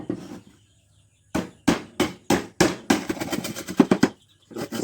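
Knife chopping while an Assamese bihu toka instrument is being made: a dozen sharp, close, evenly spaced chopping strikes, with a brief quiet gap before a final quick burst and no talk.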